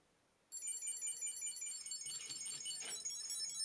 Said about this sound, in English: you can easily find it by going on the Chipolo app and ringing your wallet